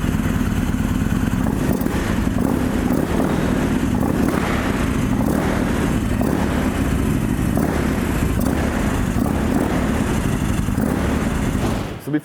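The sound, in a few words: Yamaha MT-01 1700cc V-twin motorcycle engine running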